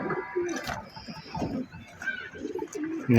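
Male pigeons, including a reddish sapchila cock, coo in a loft. Several soft, close coos rise and fall while someone talks over them.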